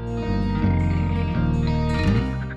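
A frog or toad croaking in a harsh, buzzy, resonant drone, loud and close, with a few rising pulses and short breaks across the run.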